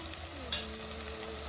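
Spices (red chilli powder, coriander powder and Khandeshi garam masala) stirred in a pan for khichdi, a steady soft sizzle with scraping of the spoon and one brief sharper scrape midway.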